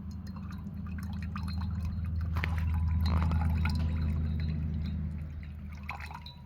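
Sodium perchlorate solution is poured into water, making soft dripping and trickling liquid sounds over a steady low background hum.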